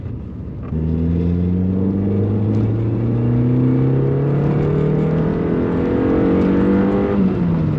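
A Nissan SR20 engine in an N14 car roars loud and steady on a dyno, its pitch climbing gradually as it revs up, then dropping off briefly near the end.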